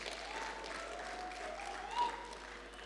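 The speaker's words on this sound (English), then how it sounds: "Let's give him another big round of applause," Audience applause at a choral competition event, a steady wash of clapping through the hall, fairly faint and distant, with a brief swell near the end.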